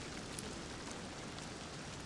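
Steady rain in the stealth video game Thief, a dense, even hiss of falling drops that stays constant and fairly loud throughout with no voices over it.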